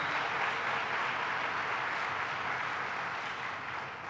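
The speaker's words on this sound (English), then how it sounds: "Let's give my team a round of applause because they really worked on this one" Audience applause for the governor's team at an announcement in Brooklyn, broad and even, sustained the whole time without talk.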